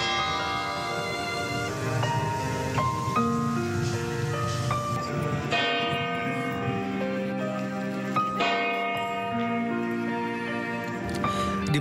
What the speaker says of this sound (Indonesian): lonceng gereja dibunyikan sebanyak 88 kali